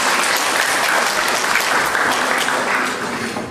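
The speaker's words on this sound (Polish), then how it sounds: "Brawa, brawa dla klasy 7C." School show audience applauds class 7C, a thick, loud, continuous round of clapping from a full room that stays steady before easing off slightly at the close.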